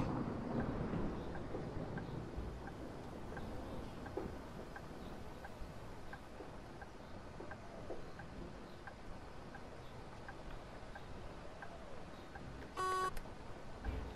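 Bus turn signal ticking at a steady rhythm inside a Volvo bus in Bus Simulator 2021, soft regular clicks over a constant engine and road rumble, with a brief electronic beep near the end.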